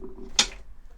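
A metal bracelet clinks once in a single short, bright jingle at close range, standing out against a quiet room with faint low hum.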